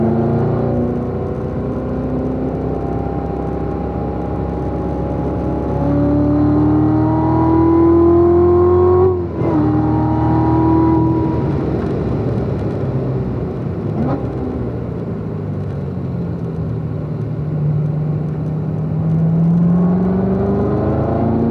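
A race car's engine holds steady throttle while cornering on a track, its pitch climbing and falling as the driver eases through the bend, loud and close with no talking.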